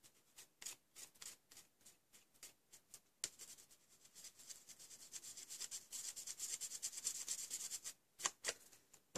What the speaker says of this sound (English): I will go over with my glue eraser